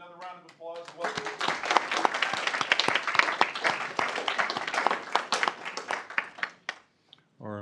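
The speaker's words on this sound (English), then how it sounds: "Let's give all of our employees, our tenured employees and our new employees, another round of applause." Round of applause for employees at a city council meeting, a burst of many hands clapping in a room that builds, holds, and fades, with a voice speaking at the start.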